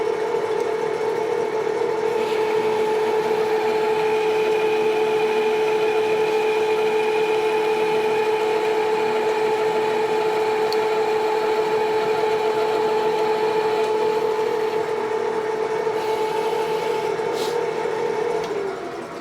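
A lathe makes a boring cut on a steel hub, giving a steady, loud machine drone with a sustained tonal whine held evenly throughout and no talking.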